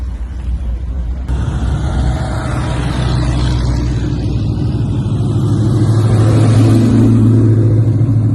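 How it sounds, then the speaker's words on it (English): A car doing a burnout at an outdoor car show: a loud, sustained engine roar that swells and holds at high revs, close and continuous, with no voices. "Do a burnout."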